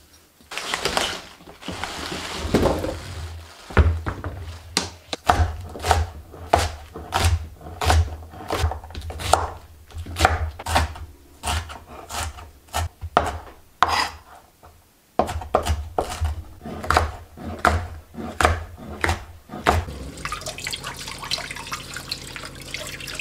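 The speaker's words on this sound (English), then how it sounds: "I'm going to get started on chopping our bell peppers and onions." A knife chops bell peppers and onions on a cutting board in a rapid series of crisp strikes, pausing briefly before resuming, close and clear.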